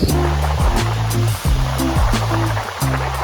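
Warm Indian Ocean surf rolls onto Coco Beach in Dar es Salaam, a loud continuous wash of breaking waves heard close and alone.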